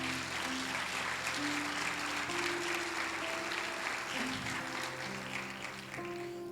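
A church congregation applauds steadily during a sermon, with sustained, moderately distant clapping that fills the room.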